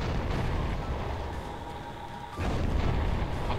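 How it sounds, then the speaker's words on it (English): Distant explosions rumble in the Red Faction video game, a low continuous booming roar with a heavier surge partway through, muffled and far off with no talking. "These explosions are like a mile off."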